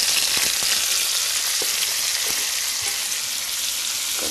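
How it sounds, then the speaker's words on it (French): Bell peppers cooking in a pan for a Provençal tart give a dense, even sizzle up close, with faint crackles and pops running through it and no voices. "Donc on va réaliser la cuisson de nos poivrons."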